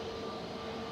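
Steady broadband jet roar with a tonal whine from an Airbus A320neo in old Neo livery at Manchester Airport, continuous and moderately loud with no voices.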